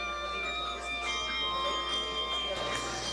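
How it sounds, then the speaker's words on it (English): Handbells ring out at a holiday open house at the Juneau governor's residence, steady sustained chiming tones under crowd chatter and voices nearby. "As you can see, there's some bells playing."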